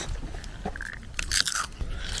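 Crunchy bites and chewing of a turkey, cheese and butter sandwich with chips, eaten outdoors at a beach after a hike; a few close, crisp crunches cluster near the middle over soft background noise.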